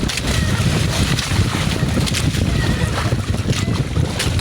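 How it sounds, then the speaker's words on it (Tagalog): Strong typhoon wind roars steadily and loudly, buffeting the microphone with a constant low rush and no letup. "Yan na talaga ang hangin."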